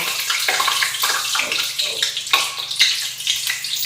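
Water gushes steadily from a tap, a loud, continuous splashing rush close by with no talking.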